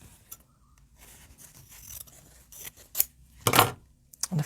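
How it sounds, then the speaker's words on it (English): Scissors snip through folded fabric on a needlework table, with a few short crisp cuts and rustling before one louder, longer snip near the end, all close by and with no voices. "Snip through the end of this fold that I've done."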